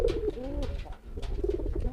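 A pet racing pigeon gives a close series of soft rolling coos, a few repeated calls in a quiet setting.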